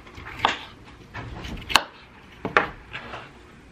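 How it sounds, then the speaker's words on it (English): Potatoes being cut into rounds with a knife: a few sharp, separate knife taps against a board, spaced irregularly over quiet background. "I'm going to peel, and then I'll chop and put in the bowl."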